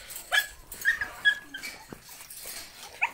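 Several puppies bark and yip in a jumble of high, thin cries at a moderate distance, with repeated short yelps and whimpers over a steady background hiss.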